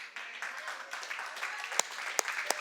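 A church congregation claps during an Easter Sunday service, with soft, diffuse applause and a few sharper claps standing out near the end.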